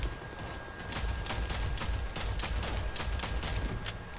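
Dense, continuous gunfire from the Rogue Company video game, a steady rattle of rapid overlapping shots that fills the whole stretch at a fairly even, moderate loudness with no talking.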